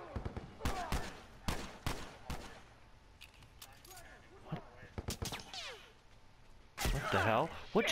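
Gunfire in an online match of The Last of Us, several sharp shots spaced through the scene at moderate distance, mixed with game sounds and a player talking, ending in a louder burst of noise.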